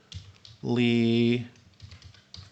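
Keys click on a computer keyboard in short light taps at the start and end, while a person speaks in the middle.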